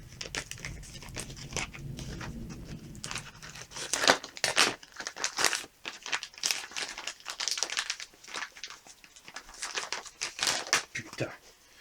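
Plastic packaging around an electrical outlet being opened and torn during a kitchen renovation, close and crinkly, with sharp irregular rips and crackles after a brief low rustle at the start.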